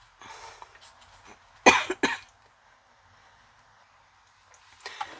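Two sharp coughs in quick succession, close and loud, with faint rustling before and after.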